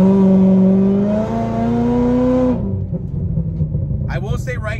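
Cammed Corvette ZR1 pulling hard behind a tuned 2020 Shelby GT500, loud engine note rising in pitch through a gear before cutting off sharply, then lower rumble and a voice speaking briefly near the end.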